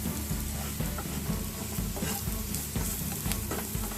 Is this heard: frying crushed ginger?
yes